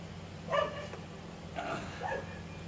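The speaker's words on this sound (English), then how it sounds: "It's his mother's dog, so we have to live with the barkage." A pet dog barks indoors in a few short, moderately loud bursts, one near the start and a pair about a second later, over a steady low background hum.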